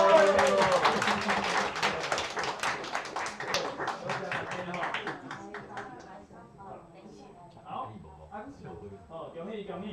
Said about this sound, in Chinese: 好，大家一起鼓掌好不好？